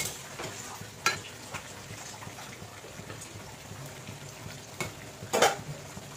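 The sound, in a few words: mutton stir-frying (kosha) in pan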